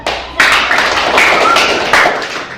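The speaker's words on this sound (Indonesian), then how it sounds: "Silakan buka mata dan tepuk tangan" Classroom applause at the close of a lesson, a short burst of clapping from a group of students that starts abruptly and holds steady for about two seconds before fading.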